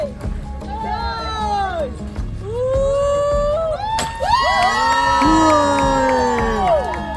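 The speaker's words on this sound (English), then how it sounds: "they brought a crowd of friends to celebrate and cheer as Yaba" Family and friends cheer at a sailboat's launch, a close, lively crowd of overlapping shouts, whoops and excited voices rising in pitch, with children among them and a louder surge midway.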